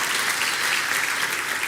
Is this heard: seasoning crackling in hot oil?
no